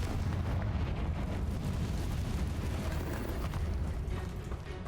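Explosion from a Confringo fire spell in Hogwarts Legacy: a dense, rumbling burst with a heavy low end that fills the moment, no speech over it.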